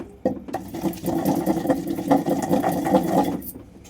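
Spinach chutney with ridge gourd and moong dal being ground by hand in a small stone mortar, a continuous rough, rhythmic scraping and grinding, close and fairly loud with no speech.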